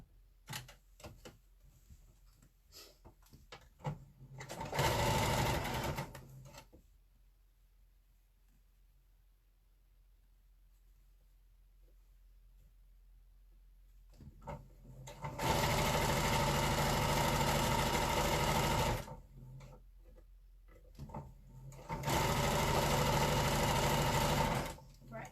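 A sewing machine stitching the middle seam of a quilt tulip block, three loud, steady whirring runs of rapid stitching separated by quiet gaps, with light handling clicks in the pauses.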